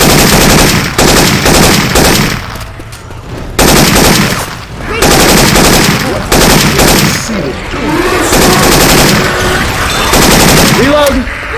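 Rapid automatic gunfire in Left 4 Dead 2, using Syphon Filter weapon sound effects, rattles in loud sustained bursts with brief pauses for reloading, mixed with game voices and chaotic effects.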